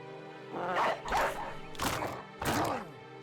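Dog barking in a medieval battle video game, four short sharp barks in quick succession, close and moderately loud.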